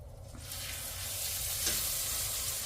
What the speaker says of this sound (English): now I'm gonna put my steaks on. The seasoned side is gonna go down to the cast iron